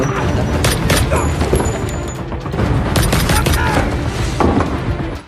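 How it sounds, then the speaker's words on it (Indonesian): Gunfire from the 2020 action film Bloodshot, a warehouse shootout with loud bursts of shots, booms and clattering impacts packed densely across the whole stretch, some voices faintly mixed in. "Terjadilah tembak-menembak."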